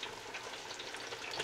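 Catfish pieces frying in an electric fryer give a steady, close crackling sizzle of hot oil, dense and even throughout with no voices.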